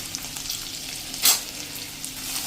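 Garlic paste, ginger paste and green chillies frying in hot oil for a soya chilli manchurian, a close, steady sizzle with one sharp spitting burst midway.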